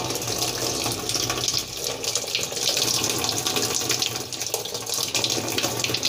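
Water pours steadily from a tap into the tub of a semi-automatic washing machine, a continuous splashing rush with no pauses.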